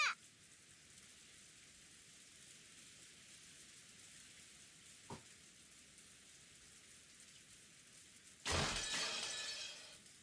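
Rain falls steadily throughout a scene in the video game Umineko, a soft continuous hiss with one brief tick midway, then a loud burst of splashing or shattering near the end.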